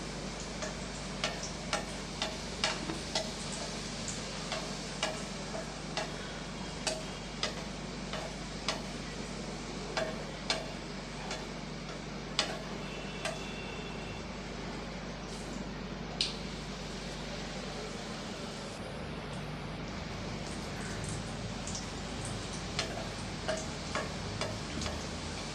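Puris frying one after another in hot oil for a potato masala meal, a steady low crackle with scattered small ticks and pops running throughout, fairly quiet and without talk.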